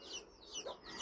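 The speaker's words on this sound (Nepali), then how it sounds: "चल्लाहरु यहाँ चुचु चुचु गरिरहेछ" Chicks cheep at home on a family Kul Puja worship day, giving a few thin, high chirps in quick succession, fairly faint and close by, with no talk over them.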